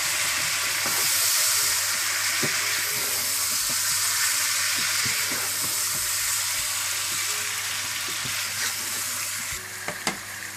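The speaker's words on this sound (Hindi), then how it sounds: "धनिया पाउडर, देगी मिर्च और हल्के जायका नमक डाल दें और अच्छी तरह से इसको भून लें।" Chicken korma masala with ginger-garlic paste, coriander powder, degi chili and salt sizzles steadily in a hot pan, a continuous frying hiss with occasional stirring clinks and scrapes, close and fairly loud throughout.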